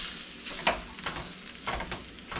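Ground meat browns in a pan for a simple 1970s-style family dinner, with a steady sizzle broken by a few scraping stirs, close and moderately loud.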